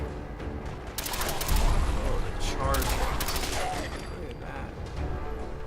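Bursts of explosive rifle gunfire in Fallout 4, loud repeated cracks clustered in two volleys over steady background game noise.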